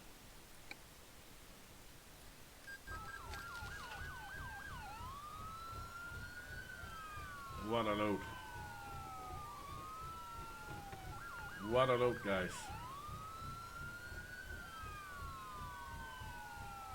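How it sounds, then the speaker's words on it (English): Emergency sirens wail and yelp repeatedly from nearby vehicles on the road in American Truck Simulator, rising and falling over a low truck engine drone, while someone talks briefly at two points. "Can you hear the sirens? I can."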